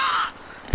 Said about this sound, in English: Hey, look, I'm an eagle!